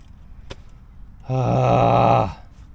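A 1969 Corvette Stingray with 46K original miles cranks for about a second without catching, giving a steady, close droning whir that stops abruptly, with a brief click just before.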